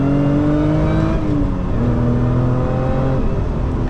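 A manual Lotus Emira sports car drives along, its engine droning loud and close from inside the cabin with rising and falling tones as the revs shift, steady and without talk.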